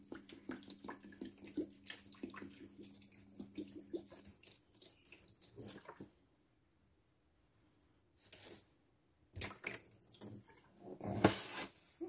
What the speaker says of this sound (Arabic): فوالا دابا حنا كبينا الماء.